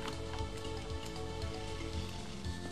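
Rain in the Spectrobes video game, a soft continuous patter of falling drops with faint game ambience underneath, fairly quiet and with no speech.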